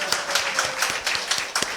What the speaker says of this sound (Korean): 우리 박수하겠습니다.